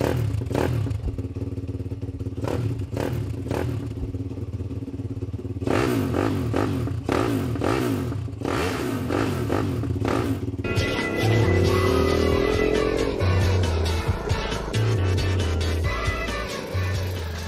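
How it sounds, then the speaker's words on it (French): An adult-sized mini motorcycle, a French-designed pitbike, is ridden in Calvados with a steady, loud engine drone and revving. Clattering, thumping impacts cut in repeatedly and the engine pitch shifts partway through. "Et vous allez voir cette mini-moto à tout d'une grande."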